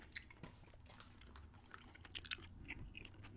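Gum is chewed close to the mic in an ASMR setting, giving soft, wet, irregular smacks and small clicks, with quiet background in between.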